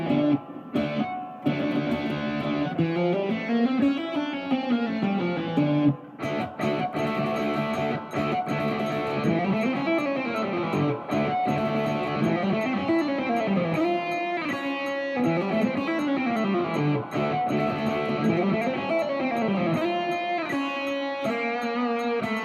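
Electric guitar shred lick in fast 16th notes on a harmonic minor scale, played three notes per string with a distorted tone; rapid rising and falling runs repeat continuously, loud and alone.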